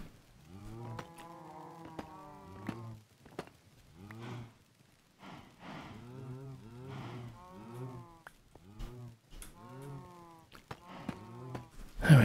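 A herd of cows in a video game moos continuously and loudly, with many overlapping lowing calls that rise and fall in a busy chorus, punctuated by occasional short clicks.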